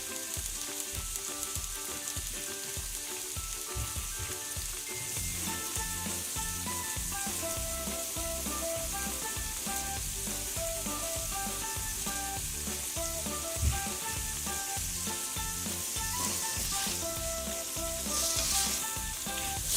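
Garlic and beef stir-frying in a pan for Thai drunken noodles, giving a loud, continuous close-up sizzle with faint stirring clatter throughout and no voices.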